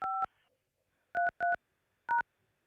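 Telephone keypad tones entering a meeting number on a call-in studio line: one double beep, a pause, two quick beeps, then one more, each short and clean against silence.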